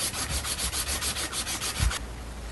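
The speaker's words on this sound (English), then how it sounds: "What I'm doing is using a piece of emery cloth. It's 120 grit, a piece of sandpaper, a wire brush," An auger shaft is scrubbed with 120-grit emery cloth in a steady back-and-forth rubbing rhythm, close and fairly quiet, with a single heavier knock near the end before the scraping stops.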